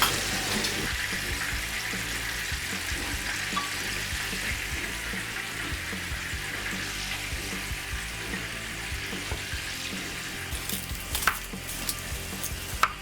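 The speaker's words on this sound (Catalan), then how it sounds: "I fregim el peix." Fish pieces frying in a pan for a Catalan seafood stew, giving a steady, close sizzle that runs throughout, with a few faint clinks and scrapes near the end.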